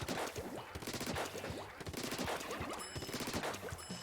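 A Heavy Splatling in Splatoon 2 fires a partial charge, a fast stream of rapid rattling shots that repeats in bursts with brief gaps, moderately quiet, with no talking.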